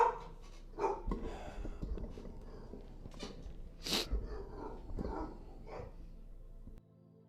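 A pet dog indoors lets out a few short barks and snorts mixed with heavy breathing, fairly close and moderately loud, before the sound cuts to near silence at the end.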